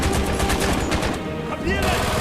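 Rapid automatic gunfire from a Call of Duty: Black Ops mission, with loud, sustained bursts that pause briefly and then resume, mixed with shouted game voices.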